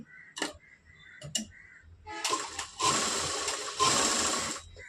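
A sewing machine stitches cloth diagonally, starting with a few separate clicks before breaking into close, loud bursts of rapid mechanical whirring.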